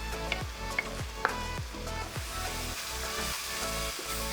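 Curd added to biryani spices such as garam masala, coriander powder, cinnamon, nutmeg and black pepper for mutton biryani, sizzling steadily while stirred, with rhythmic scraping strokes about every half second, close and unaccompanied by speech.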